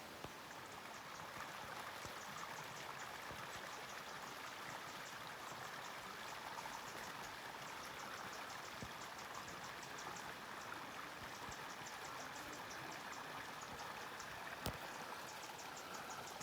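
Steady flowing water from a small stream in a desert palm canyon oasis at Hellhole Canyon near Borrego Springs, a continuous soft rushing and trickling wash heard close and alone.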